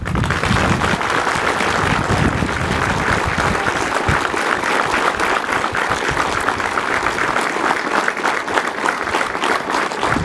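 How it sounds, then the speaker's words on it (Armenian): Loud, sustained applause from a large crowd at a military unit ceremony in Sisian, Armenia, a dense, steady clapping that fills the whole stretch without a break. "Բարձր ծափահար ենք։"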